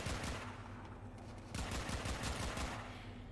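Enemy gunfire rattles continuously in a Warframe mission, a dense, steady stream of rapid shots running throughout with a slight surge midway.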